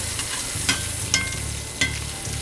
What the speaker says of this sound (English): Our zucchini is ready to be pulled, and it's just been roasting in this Wagyu fond